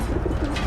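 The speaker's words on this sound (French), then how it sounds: "Le pigeon!" A pigeon coos briefly in a war action film, its soft call set against a dense, steady wash of background noise and low rumble, with no voices.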